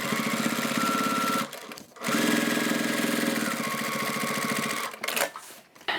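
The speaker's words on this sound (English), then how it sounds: "top stitch on the fabric, not the vinyl, on the upper part" A sewing machine top stitching the fabric upper of a crossbody bag, a steady close mechanical whir that stops briefly near the middle, restarts, then halts with a few clicks at the end.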